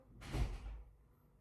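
A bedroom door swung shut and closed with a single soft thud, followed by a faint settling rattle and then quiet.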